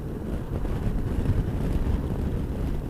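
Wind roars past a rider on a Benelli TRK motorcycle in wet conditions, a dense, low, buffeting rush that swells and fades at close range, with no speech.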